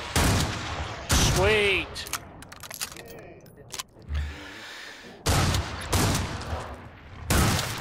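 Weapons fire in the video game Killing Floor 2 during solo play. Loud bursts of rapid shots come in several separate volleys with quieter gaps between them, and a voice speaks briefly in between.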